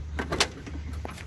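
The door of a worn 1973 Ford F350 tow truck with shot rockers and doors being opened, a few close, faint clunks and rattles of the latch and hinge, with no voices.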